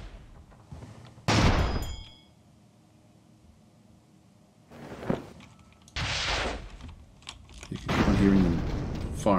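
Airship cannons boom in Airships: Conquer the Skies, several heavy blasts in separate bursts with quieter gaps between, the last ones longer and rumbling.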